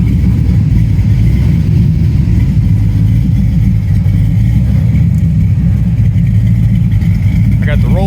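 An LS-swapped GMC/Chevy all-wheel-drive truck running through a new budget exhaust, a loud deep continuous rumble held steady, with a brief whine near the end.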